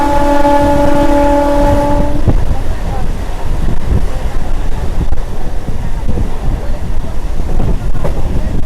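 A Sealdah–Bangaon local train runs at speed: a loud horn blares for the first two seconds, then steady rail rumble and clatter with wind buffeting continue to the end.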